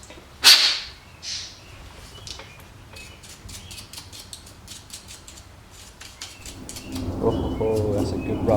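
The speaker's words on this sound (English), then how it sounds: "Oh, that's a good rumble of thunder." Distant thunder rumbles low and long, while small birds chirp and twitter nearby; a sharp burst sounds early and the rumble swells toward the end.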